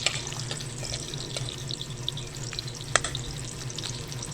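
Onions frying in a pan for ginataang bagongon shellfish, a steady close sizzle with a few small pops and clinks, no voices.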